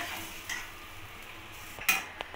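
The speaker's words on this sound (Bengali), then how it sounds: "দুধটা দিয়েও ভালো করে ফুলকপিটাকে নাড়িয়ে নেব" Cauliflower being stirred in a pan with coconut milk for a cauliflower korma: quiet simmering hiss with a few soft scrapes and one clear clink of a utensil against the pan, no talking.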